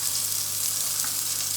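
Chicken and Scotch bonnet pepper sizzle and crackle steadily in a hot pan, a dense, even frying hiss that stays close and constant with no talking.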